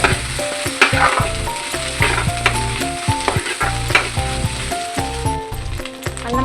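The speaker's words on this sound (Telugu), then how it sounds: "అల్లం వెల్లుల్లి పేస్ట్ కూడా బాగా వేగాలి" Ginger garlic paste frying for egg fried rice, a loud close sizzle with a spatula repeatedly scraping and clattering against the pan in a steady rhythmic stirring.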